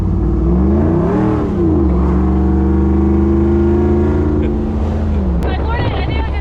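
A V8 Jeep Wrangler engine roars under full throttle in second gear, its pitch rising and holding as it accelerates, then easing off, with wind buffeting and voices talking faintly underneath.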